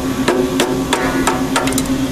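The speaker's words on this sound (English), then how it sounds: "With the hammer, we're going to remove that shear pin." A hammer strikes a punch to drive out a shear pin on a Hopkins flash dryer, giving about six or seven sharp metallic taps over a steady machine hum.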